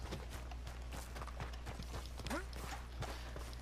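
Horse hooves clip-clopping at a steady walking rhythm while riding in Red Dead Redemption 2, close and moderately loud over a low ambient bed, with a brief sighing sound partway through.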